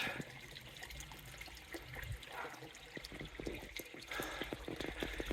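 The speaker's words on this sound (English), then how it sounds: "I've got the water on full at the moment to clean it out and to fill it up, and the water's coming through no problems" Water gushes at full flow through the filter of a koi pond, a steady close splashing rush with scattered drips and gurgles and no voices.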